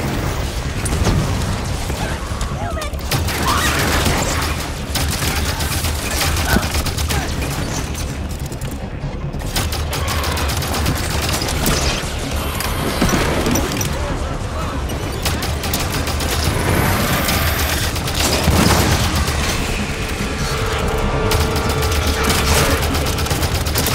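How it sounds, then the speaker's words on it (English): Sustained gunfire and explosions fill a Halo 5: Guardians battle, dense overlapping shots and booms with mechanical clatter, loud and continuous, with faint voices mixed in. "Concentrate fire on the broken armor."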